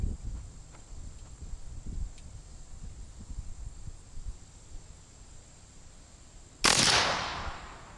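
A single loud blast from a Primal 20 gauge shotgun firing #4 bird shot rings out near the end, following quiet outdoor ambience with faint rustles and soft thumps.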